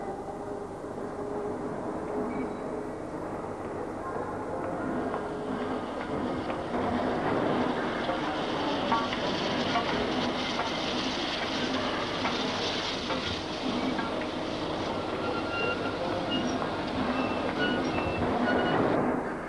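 A 1966 railway locomotive hauling the Scotsman express at speed, braking and accelerating again, gives a steady loud rumbling roar with faint rhythmic rail clatter and hiss throughout, with no voices.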